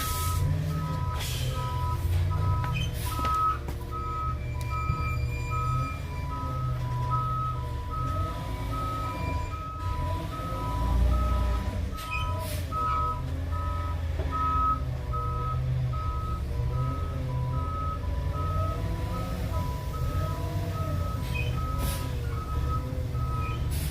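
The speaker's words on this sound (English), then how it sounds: "Right when I went to go feed Trident, the fucking trash truck showed up to come back down the alley." A trash truck backing down an alley gives a long run of steady, evenly spaced reversing beeps over a low diesel engine rumble, moderately distant and continuous throughout.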